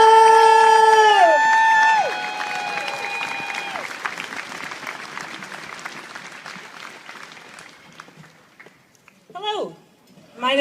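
An outdoor crowd at a science march breaks into applause and cheering right after a musical note fades, a loud wash of clapping that thins out, followed by a few shouted whoops near the end.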